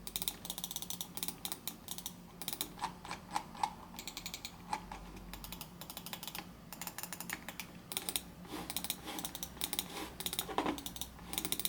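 Rapid, crisp clicking of Kailh Black Mamba mechanical keyboard switches on a Proove Gaming Coupe keyboard continues throughout, with quick irregular bursts of keypresses and no voices.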